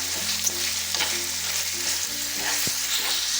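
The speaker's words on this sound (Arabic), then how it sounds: "كما كتشوفوا حنا ردينا هنا كيتشحر" Chicken breast sizzles while sautéing in a pot for a family-size pastitsio, giving a steady crackling hiss close by, with a few soft stirring knocks and no speech.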